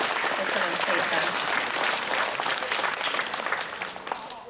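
Audience applause for students' performance at a primary school's school-year opening ceremony, a dense, steady clapping from a large crowd that continues throughout and eases slightly in the last second.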